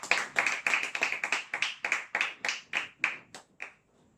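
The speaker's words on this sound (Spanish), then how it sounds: "Los que pueden, denle un aplauso a mi Señor Jesucristo." Church congregation clapping in a steady rhythmic beat, about a dozen even claps that slow and fade out toward the end, fairly faint and without talk over them.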